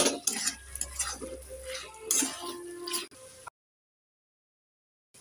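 Spiced meat curry being stirred in a pot after salt is added for a meat pitha, with spoon scrapes and clinks against the metal for about three seconds, a low background hum underneath, then sudden silence.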